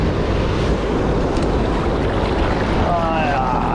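Ocean surf surges and breaks on a beach during shore fishing, with a confused swell running. The roar is loud and continuous, with heavy wind buffeting the microphone and a brief voice near the end.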